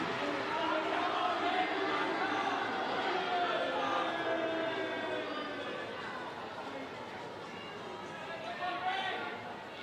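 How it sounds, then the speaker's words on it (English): Crowd noise at a Tottenham Hotspur v Liverpool women's football match swells as fans back Spurs late in the game, a broad roar with a commentator talking over it throughout. "You can hear the crowd getting behind their team"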